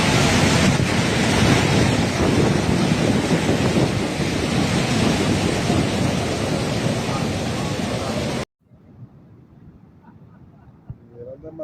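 Tropical Storm Cristina waves roar and crash at San Juan del Sur, Nicaragua, with heavy wind buffeting the microphone, a loud continuous rumble that suddenly drops to quieter background noise.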